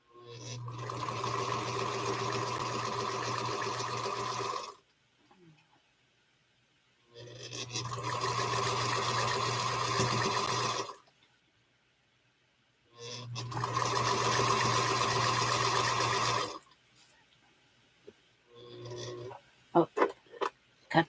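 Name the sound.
sewing machine sewing quilt strips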